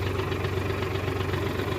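A high-horsepower four-wheel-drive tractor's diesel engine ticking over at idle, a brief, steady low rumble with even pulsing, heard close.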